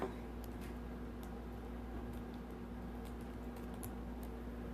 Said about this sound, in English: I can't really type on my freaking keyboard either